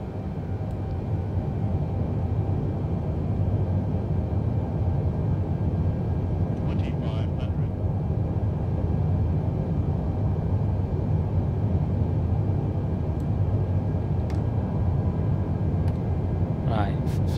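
Boeing 787 jet engines at full throttle in MSFS 2020 give a steady, broad cockpit roar that holds unchanged from start to finish.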